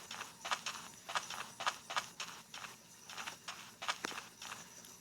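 Footsteps on a video game escape map, a steady series of crisp, moderately loud steps with a hollow clip-clop quality, evenly paced for about five seconds with no talking.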